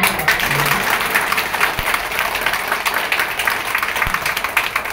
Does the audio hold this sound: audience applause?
yes